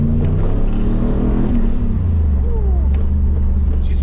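A Chevrolet Camaro IROC Z28 idles with a smooth, steady low rumble, close and fairly loud with no talking.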